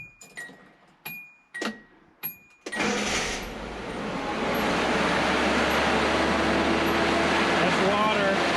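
A rebuilt 1985 Nissan 720 pickup engine cranks over after a few short clicks and whirs, then catches and settles into a steady, loud idle with a continuous low rumble that holds to the end.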